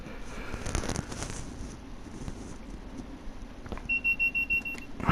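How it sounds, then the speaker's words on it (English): A DSD inactivity alarm in the Train Sim World train-driving game sounds as a run of about six even electronic beeps near the end, after a low rumbling cab background with a few clunks. "It's your DSD alarm for when there's inactivity on the throttle or brake"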